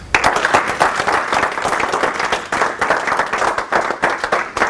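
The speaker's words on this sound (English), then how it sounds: "we'll just give him a great big round of applause" Energetic applause from a speakers' forum audience welcomes a guest speaker to the stage. Many hands clap loudly and close for nearly five seconds, with irregular surges in the rhythm.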